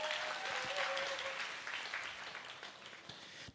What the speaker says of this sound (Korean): 이럴 때 박수 한번 주시는 건데